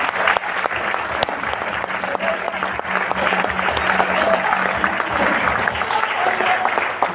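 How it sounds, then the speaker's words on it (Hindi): Loud, steady applause from a seminar audience honoring Bhuvan Chand Sharma, dense clapping that holds for the full stretch with a faint voice now and then underneath. "जोरदार तालियां भुवन जी।"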